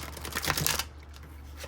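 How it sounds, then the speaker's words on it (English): Cards being shuffled by hand during a calm tarot-style reading, a brief crisp riffling burst lasting under a second, close and fairly loud, followed by quiet room tone. "as I shuffle"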